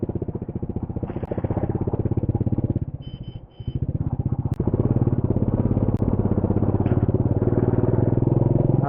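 A motorbike climbs a steep mountain road, its engine thrumming steadily and close with rhythmic pulsing, dipping briefly before pulling harder and louder uphill.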